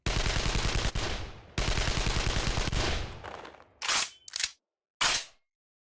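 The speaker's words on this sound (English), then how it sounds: "this is the alternate secondary, which is a projectile based little machine gun" A projectile-based SMG fires in an Unreal Engine 5 game: two long, loud bursts of rapid gunfire, followed by several short clipped bursts separated by brief silences.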